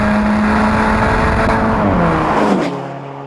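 A 2015 Alfa Romeo 4C sports car driving, its engine droning loud and close with a rising then falling pitch before easing off near the end.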